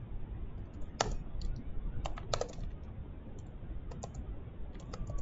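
Typing on a computer keyboard, with scattered clicks and a few quick bursts of keystrokes over a steady background hiss, fairly close and moderately quiet.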